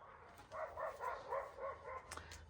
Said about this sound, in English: Sorry if you can hear the neighborhood dogs.